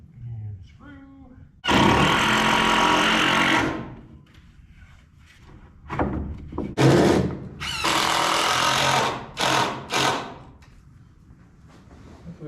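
Cordless drill driving screws and spacers into a steer pen frame, several loud whirring bursts of a few seconds each with short pauses between, close by, with brief talk and grunts in the quieter gaps.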